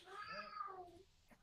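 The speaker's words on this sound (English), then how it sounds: "Uh-oh, cat's mad." An angry house cat lets out one drawn-out, wavering meow, close and fairly quiet, followed by a brief faint rustle.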